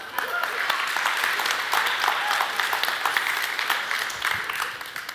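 Audience applause filling a large room during a pre-game pep talk, a dense sustained wash of clapping for several seconds with some crowd voices mixed in.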